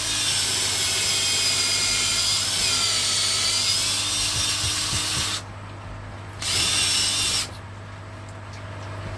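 Power drill driving small screws into wall plugs, a loud close whirring drone that runs steadily, cuts out briefly twice, and starts again in short bursts.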